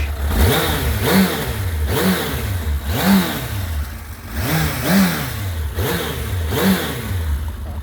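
A 30-year-old Suzuki GSX-R1100M motorcycle engine runs close by, slightly rich, with a loud, steady throb and rhythmic surges of revving roughly every second and a half, with no voices.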